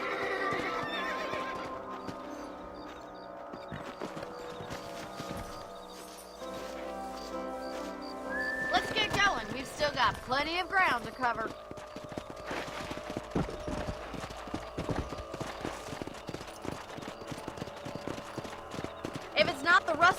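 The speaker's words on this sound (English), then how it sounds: "Let's get back on the horses and see what else is going on." Horses in the video game Red Dead Redemption, with a neigh and steady clip-clop hooves under background music, while someone speaks over them.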